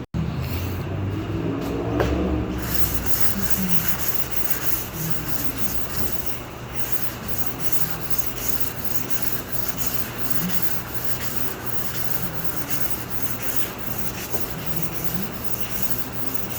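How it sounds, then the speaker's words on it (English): Body filler being sanded on a 1991 Jeep Cherokee Limited during dent repair, a loud, steady, close-up rasping rub that continues without a break, with no talking. "let's sand this down and see what it looks like"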